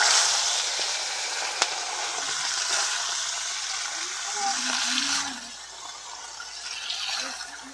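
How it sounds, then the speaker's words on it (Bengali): Marinated fish slides into hot mustard oil, bringing a steady close sizzle and bubbling along with a sharp clink of a utensil and some soft handling noises, while a voice speaks briefly partway through. "তেল গরম হয়ে গেছে এবার দিয়ে দিব মেখে রাখা মাছ"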